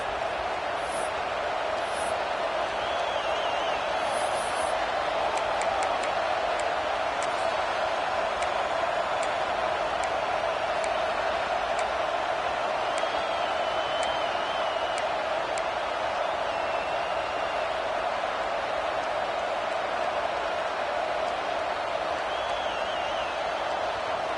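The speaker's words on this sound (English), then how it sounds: "This crowd bringing the energy and noise early." A dense, continuous roar of a large stadium crowd at a Florida vs LSU football game fills the space, steady and loud throughout, with faint whistles and chatter poking through.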